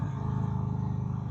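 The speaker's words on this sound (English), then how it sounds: "That 116 just sounds so beefy, man." A 2025 Indian Springfield Dark Horse motorcycle with its 116 engine, a steady deep low rumble held evenly and close without breaks.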